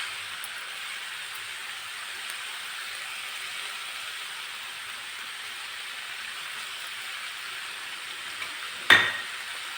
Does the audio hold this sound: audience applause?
no